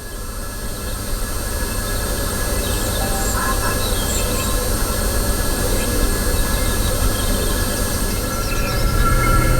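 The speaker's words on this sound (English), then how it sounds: "This particular sound module is number GM784, Rural Scenic Sound Module." Rural scenic ambience from a GM784 model railway sound module, a steady, loud, continuous hum with a faint rumble and no distinct events, holding level throughout.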